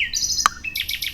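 Birds chirp and sing outdoors at Philippi, with a rapid run of bright, high tweets and short repeated calls close by, clear and alone.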